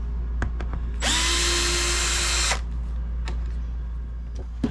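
Power drill backing out Phillips head screws from the center console latch of a 2013-2025 Ram truck, one loud close whir of about a second and a half amid faint shop clicks and a low hum.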